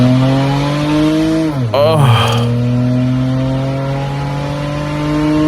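A Honda Odyssey minivan with a loud modified exhaust accelerates hard, its engine note climbing steadily in a close, loud drone with a brief gear-change dip, while people talk over it.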